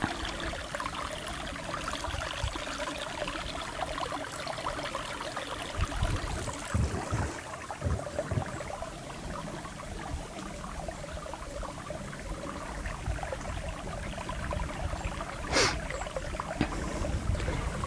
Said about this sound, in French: Voilà le petit cours d'eau.